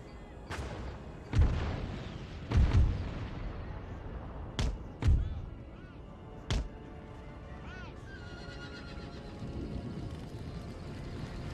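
Cannon fire and explosions in the Empire: Total War video game, as several heavy booms and sharp blasts spread irregularly over a rumbling battlefield background, some close together and others isolated, with quieter stretches between.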